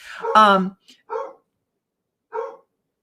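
A dog letting out a few sharp, close barks, one louder bark followed by two shorter ones separated by silence.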